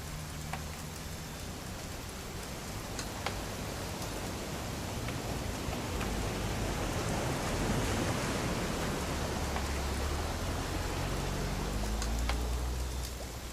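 Steady rain falls throughout a scene in the video game What Remains of Edith Finch, a dense, even hiss of drops that swells slightly midway and runs on without a break.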